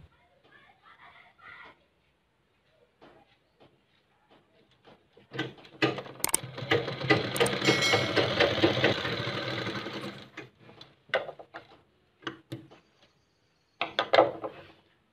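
A sewing machine stitches a kurta in one sustained run of several seconds, followed by shorter bursts of stitching, with quiet handling sounds in between.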